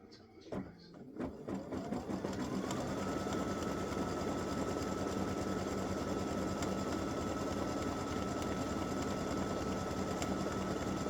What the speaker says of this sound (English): Color stop number 6 is going to stitch your 1/4 inch seam line